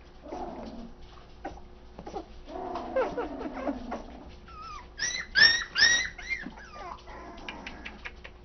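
Four-week-old puppies whimper and squeal in thin, high-pitched cries, scattered through the stretch and peaking in a cluster of sharper squeaks near the end, close by and moderately loud.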